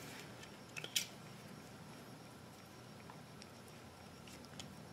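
Scissors snip through a bracelet cord just before the knot, two or three quick close clicks early on, followed by quiet room tone.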